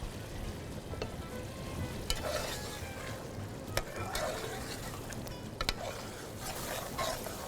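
Tomatoes and spices lightly roasting in a pot for khatti masoor daal, a steady close sizzle with scattered scraping stirs and utensil taps throughout, no talking.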